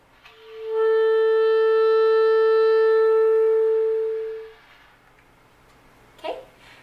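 A single low B clarinet note is held steadily for about four seconds, then fades, followed by a brief soft noise.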